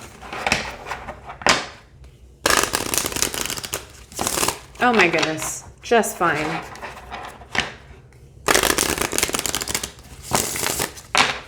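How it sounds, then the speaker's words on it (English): A deck of oracle cards is shuffled in bursts of rapid riffling and flicking, loud and close, with a voice speaking briefly between the shuffles. "we're going to see how this shuffles"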